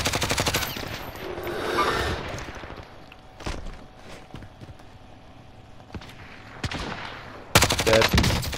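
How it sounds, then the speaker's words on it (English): Video game gunfire striking the player, with a burst of rapid shots at the start, scattered single cracks through the middle and a fresh loud volley near the end, all close and sharp. "where am I getting shot from?"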